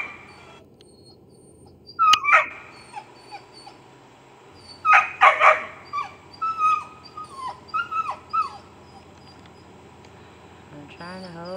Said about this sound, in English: So she's gonna be barking because she wants to come over here with